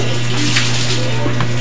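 Water runs steadily from a tap in a continuous close gush, with a low hum beneath it and no pauses for the whole stretch.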